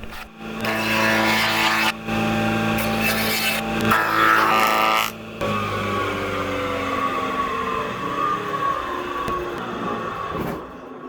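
A power tool flattens one face of a wood board in a workshop, a loud droning machine whine with rising and falling tones, cut off by brief pauses as passes start and stop, with no talk.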